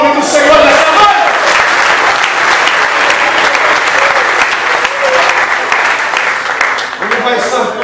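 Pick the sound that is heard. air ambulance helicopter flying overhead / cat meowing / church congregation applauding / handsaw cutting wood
church congregation applauding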